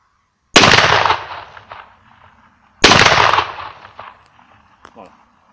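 An over-under 12-gauge Ildiz shotgun fires its top and bottom barrels one after the other, two loud, close, sharp blasts about two seconds apart, each trailing off into a decaying echo, followed by faint handling noise.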